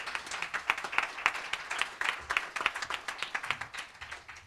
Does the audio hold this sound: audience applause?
yes